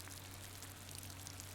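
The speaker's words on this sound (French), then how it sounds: "il pleut" Steady light rainfall hissing softly and evenly, a faint continuous patter with no voices and a low constant hum underneath.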